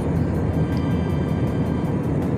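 Airplane cabin noise during flight above the clouds: a constant, loud, even engine and air roar filling the cabin without a break, with no voices.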